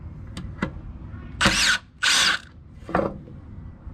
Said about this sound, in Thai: อันนี้คือสว่าน